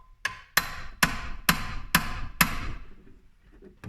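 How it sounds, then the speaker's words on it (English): Six sharp hammer whacks in a steady rhythm as a clutch fan on a GMC Sierra is tightened, each metallic strike ringing briefly before the next, close and loud. "I'm going to give it just a whack or two with the hammer just to make sure it's set nice and tight."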